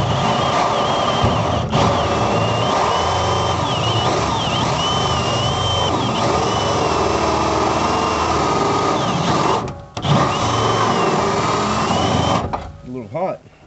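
Cordless drill spinning a hole saw in reverse to finish a cut, a steady high whine running continuously for about twelve seconds, with a brief dip near the end before it stops.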